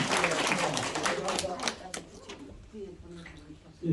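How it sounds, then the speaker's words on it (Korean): At a regular general meeting of an elderly association chapter, an audience claps in a scattered patter that fades out, mixed with a voice speaking over it. "박수 한번 주시겠습니다."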